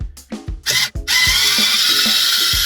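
Cordless drill working on a BMW F30 car interior trim part, short revving bursts followed by a sustained steady whirring spin, close and loud with no talking.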